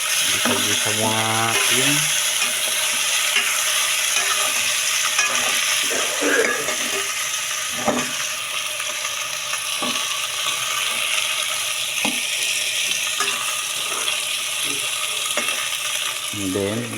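Vegetables and pork fry in a pan with a constant sizzle, while a utensil stirs and scrapes the metal in regular clanks and knocks; a voice speaks briefly at the start.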